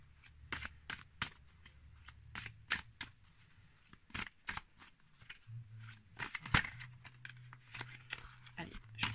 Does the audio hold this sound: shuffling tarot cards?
yes